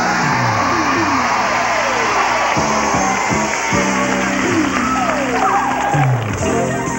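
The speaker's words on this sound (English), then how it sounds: "I hope you have some more applause in you, because I'd like you to now lavish it on our hostess" Studio audience applauding for Vanna White on a 1985 Wheel of Fortune game show, a continuous dense roar of clapping with cheers and shouting mixed in, loud and sustained throughout.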